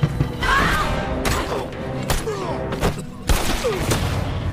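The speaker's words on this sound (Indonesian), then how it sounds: "Suara tembakan pun membuat Diyoza dan kru-krunya panik" Several loud gunshots ring out in an irregular burst, sharp cracks and thuds over a tense, busy background with faint voices.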